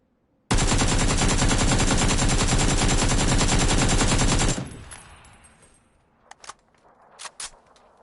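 Sustained automatic gunfire in a video game rattles loud and close for about four seconds, then breaks off into a few scattered clicks and thuds.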